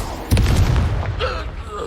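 A Descendo spell slams down with a deep boom in the Hogwarts Legacy video game, a sudden heavy low thud followed by a rumbling tail and some lighter clatter fading out.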